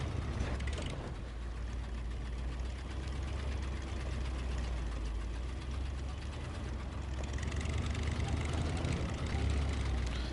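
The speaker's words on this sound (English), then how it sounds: "You can even hear in the engine, it sounds like the Lodestar 1700." A heavy truck engine in the SnowRunner off-road driving game, similar to a Lodestar 1700, idles with a continuous low, rumbling drone that holds steady throughout.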